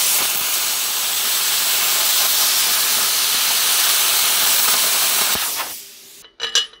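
A Simder SD-4050 Pro plasma cutter slices through metal with a loud, steady hissing rush that holds for several seconds before cutting off abruptly, followed by a couple of short clunks.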